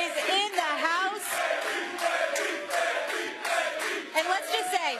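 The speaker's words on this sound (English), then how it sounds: "the crowd is so hyped right now" A pub crowd in downtown Houston cheers and shouts excitedly during a live football broadcast, a dense, steady wash of voices with rising whoops and bursts throughout.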